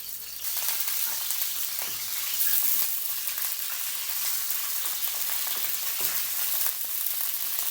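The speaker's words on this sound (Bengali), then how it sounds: "এখন সব ডিমগুলো ছেড়ে দিব, তারপরে ডিমগুলো আমি আস্তে আস্তে করে ভেজে নিব একটু লাল করে।" Boiled eggs sizzle steadily in a little hot oil in a pan, with a continuous crackling fry and occasional stirring scrapes throughout.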